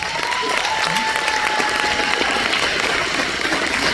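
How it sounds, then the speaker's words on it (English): A crowd at a school football and baseball awards ceremony applauds the attending parents, steady close clapping throughout with a faint tone audible early on. "So a round of applause for all the parents in attendance."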